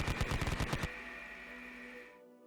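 A burst of machine gun fire rattles in a rapid, loud, close string of about a dozen shots, then cuts off into a ringing tail that fades to silence, set in a Konflikt '47 tabletop battle.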